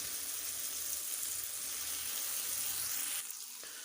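Tomatoes softening in a pan for a mutton masala fry, giving a steady, close sizzle and bubbling that continues without a break and then eases slightly toward the end.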